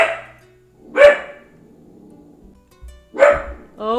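A dog gives several loud, sharp barks in separate bursts, near and indoors, with quiet gaps between them and a brief whine at the end.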